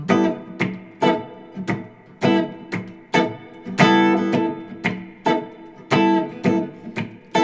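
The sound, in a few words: guitar playing blues chord voicings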